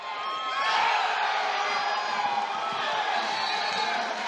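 A basketball crowd roars and cheers after a steal, a dense, sustained wall of shouting and whooping that swells early and stays loud throughout.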